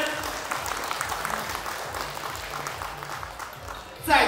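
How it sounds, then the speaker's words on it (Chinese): Crowd at a company year-end party applauding a team, sustained clapping with a rhythmic low thumping beneath it, fading slightly before a louder burst at the end. "让我们以热烈掌声再次送给资材中心的小姐姐们"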